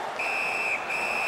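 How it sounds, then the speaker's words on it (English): In an NHL 19 HockeyAllsvenskan game, a referee blows a sharp whistle for a tripping penalty: one long, steady shrill note that briefly dips, then continues over loud arena crowd noise. "Whistle is blown, and now the penalty will be handed out."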